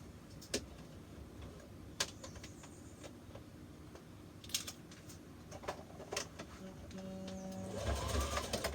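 Sewing machine stitching around the bottom hem of a dress, faint and steady beneath scattered clicks and handling taps, with the motor rising more clearly in the last second or so.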